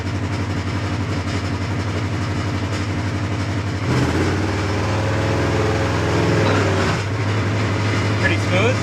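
A utility machine fitted with a new Mother Clutcher primary clutch pulls away under a steady low engine drone that rises as it moves off, loud and continuous throughout.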